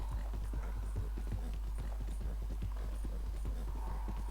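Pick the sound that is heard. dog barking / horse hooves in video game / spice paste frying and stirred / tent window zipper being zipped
horse hooves in video game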